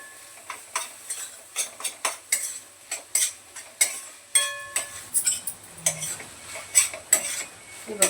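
Paneer bhurji is sautéed on high flame, a quick series of sharp spatula clinks and scrapes against the pan in an uneven rhythm over a faint sizzle, close and without speech.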